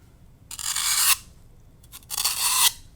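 Two rasping scrape-and-cut strokes as craft material is trimmed for a Halloween assemblage, each under a second, close and fairly loud with a quiet gap between.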